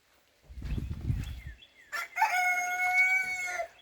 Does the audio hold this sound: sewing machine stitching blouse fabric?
no